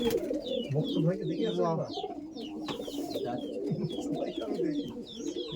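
Racing pigeons in a loft housing female birds, their soft rolling coos repeating up close throughout, with people talking over them.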